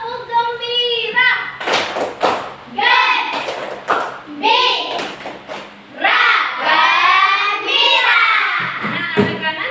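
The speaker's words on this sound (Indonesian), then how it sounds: "Tepuk gembira." Children in a classroom lesson chant the 'tepuk gembira' routine together in loud, bouncy unison, with rhythmic hand claps and thumps punctuating their voices.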